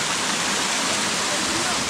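Waterfall in Kundruma Forest roars as a continuous, loud, broadband rush, close by, with people talking over it.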